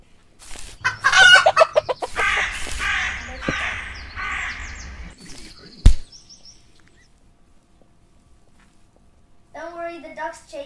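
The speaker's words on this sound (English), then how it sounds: "Chicken! Chicken, I see you!" Cartoonish chicken clucks and crowing calls from the Minetest video game, loud and busy in the opening seconds alongside other game sounds, then a sharp thump and near silence before voices talk at the end.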